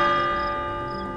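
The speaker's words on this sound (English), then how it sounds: "For whom does the bell toll?" A single church bell tolls loudly and close, its struck tone ringing with rich overtones and slowly decaying.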